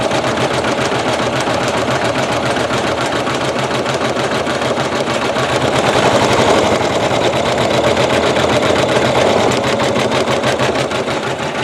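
A Janome embroidery machine stitching a True Type font lettering design with metallic thread, making a rapid, continuous mechanical chatter that stays loud and even and close up, with no talk.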